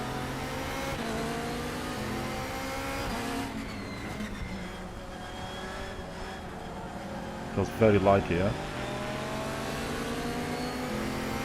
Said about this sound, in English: Oh, these cars, they sound so good. That Corvette, obviously.